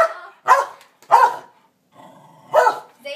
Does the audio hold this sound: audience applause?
no